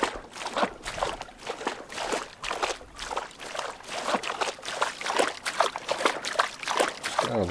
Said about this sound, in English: so I can't hear myself talk over the sploshing